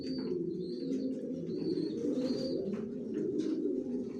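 Racing pigeons, long-distance Johnson grizzle racer babies, coo in a loft with steady low rolling calls throughout, nearby and continuous, with a few faint chirps above.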